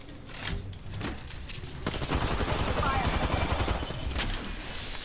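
Gunfire in Apex Legends builds into sustained rapid shooting in the second half, preceded by a few scattered sharp shots, with voices talking over the action.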